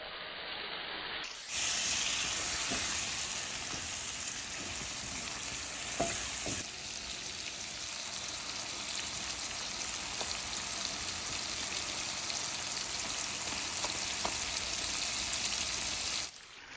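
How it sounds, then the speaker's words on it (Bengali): Shrimp hit a hot pan and burst into a loud, dense frying hiss that holds steady, with a few sharp spatters and pops breaking through. "এখন আমি চিংড়ি মাছগুলো ভেজে নেব"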